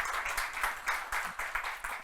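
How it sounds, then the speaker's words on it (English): Audience applause for the conference organizers and staff at a tech talk in Bucharest, a steady wash of many hands clapping that swells in repeated bursts, fairly loud and close, with no voices over it. "So a big applause to the organizers and the staff for doing this."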